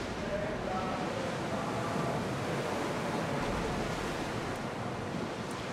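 Sea waves washing steadily around a sailing ship in Assassin's Creed Odyssey, a continuous broad rush of surf and wind, moderately loud and unbroken, with a voice speaking faintly over it.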